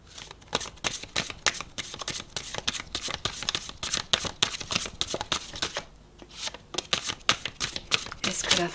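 Tarot cards shuffled close up before a card draw, a quick run of crisp riffling flicks that pauses briefly and then starts again.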